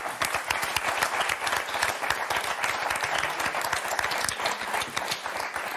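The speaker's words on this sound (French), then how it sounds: "Et on va applaudir très fort Johan et Kevin." A TV game-show studio audience claps enthusiastically in dense, sustained applause that continues steadily throughout.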